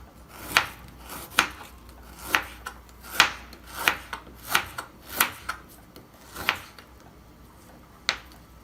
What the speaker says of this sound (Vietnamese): Gừng các bạn cũng thái mỏng nhé